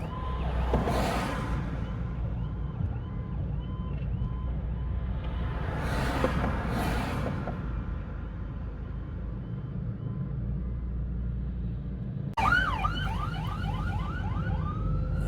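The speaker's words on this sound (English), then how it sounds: "More emergency vehicles" Emergency vehicles moving through congested Memorial Day weekend traffic on Route 90 near Ocean City, Maryland: steady engine and road rumble with faint distant siren wails, then a sudden loud yelping siren near the end.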